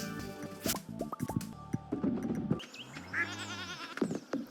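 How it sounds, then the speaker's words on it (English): Goats bleat in the Stardew Valley farming game, a few short cartoonish bleats mixed with game sound effects, drips and a light backing tune. "We have enough left over to get a single goat."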